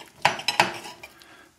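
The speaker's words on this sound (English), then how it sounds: "If I turn the knife this way, it'll work better?" A knife cuts through veal cordon bleu on a plate, with a few close clinks and scrapes of cutlery against the dish.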